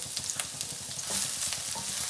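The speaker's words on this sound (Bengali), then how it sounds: "তেলটা গরম হয়ে যাওয়ার পরে দিয়ে দেবো হচ্ছে রসুন কুচোনোটা" Chopped garlic and ginger sizzle in hot oil, a steady crackling fry with small pops and light stirring scrapes, close and moderately loud, no talking.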